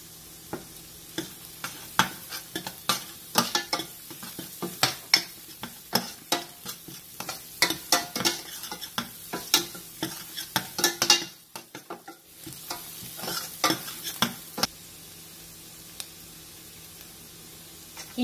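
Ginger, garlic and turmeric powder sizzle steadily in a hot pan while a spoon scrapes and stirs in irregular clattering strokes, close and alone, with a brief lull near the middle before the frying resumes.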